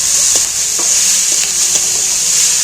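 Chopped onions fry in a pan with whole garam masala for a chicken dish, giving a loud, steady sizzle broken by a few soft scrapes of stirring, with no talk.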